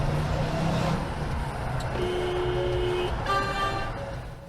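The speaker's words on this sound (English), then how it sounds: "Who the hell was honking here?" A car horn honks in traffic near a bus, heard from inside a vehicle. Two short, clear horn blasts sound over a steady road rumble.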